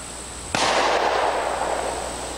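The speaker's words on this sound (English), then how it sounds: "see what our Corbine cartridge does on our 45 shot stop target" A single sharp, loud gunshot from a .45 firing a Corbon cartridge at a shot stop target, with a lingering outdoor reverberation that fades slowly.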